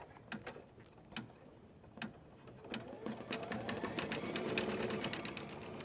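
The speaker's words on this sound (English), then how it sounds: "I already have threaded my machine with the teal thread. And we're going to start stitching." A sewing machine stitching with teal thread, starting with separate clicking needle strokes that speed up into a steady mechanical whir, close and fairly quiet.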